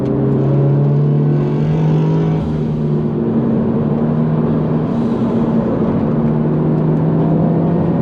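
A Subaru BRZ drives a lap at a supercar meet, its engine holding a steady, loud drone heard from inside the car that rises and falls slightly as it accelerates, with no pauses.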